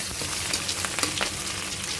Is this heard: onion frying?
yes